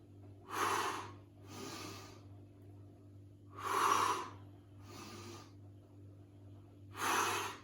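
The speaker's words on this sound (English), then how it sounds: "I'm breathing out as the arm and leg go away" An exercise instructor exhales in strong, breathy bursts during a floor workout with alternating arm and leg movements, four or five forceful breaths spaced about a second or more apart, close and loud with no talking.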